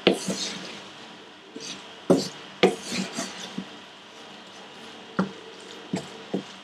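Rice pulao is mixed and toasted on a flat iron tawa, with sporadic scraping and clattering strokes of a spatula, several sharp knocks spaced a second or so apart over a quiet, steady background.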